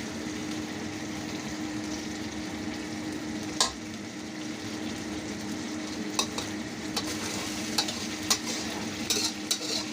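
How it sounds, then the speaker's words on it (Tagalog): Sardines sizzle and fry steadily in a pan while a utensil stirs, with occasional sharp scrapes and clinks against the metal; no one speaks. "iprito-prito natin ng kaunti yung sardinas para hindi siya masyadong malangsa"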